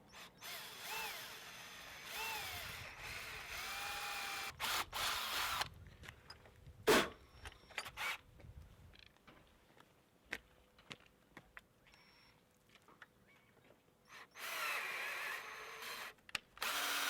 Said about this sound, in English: Centre punch the mark and drill a hole and tap.